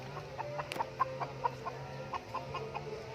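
Chickens cluck in a cassava field, with a steady run of short, clear clucks repeated at a quick pace and one sharper call among them, fairly close against a soft outdoor background.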